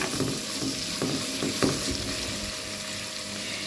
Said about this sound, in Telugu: కర్రీ చక్కగా వేగుతుంది